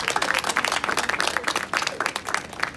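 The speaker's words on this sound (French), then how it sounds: "On peut les applaudir." Crowd applause for bakery staff at the opening of a new neighbourhood market in Gros Saule, a dense, steady clapping that stays close and loud for the whole moment.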